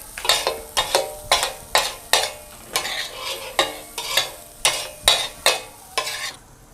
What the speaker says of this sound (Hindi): और बस अब इसको हम चलाएंगे, मिक्स करना है इसको।